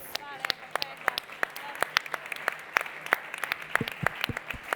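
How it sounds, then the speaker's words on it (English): Sparse, individual hand claps ring out in an irregular patter as an audience applauds at the close of a tech talk; the claps sound fairly distant against a quiet room, with a faint voice early on. "can you join me in one last big round of applause?"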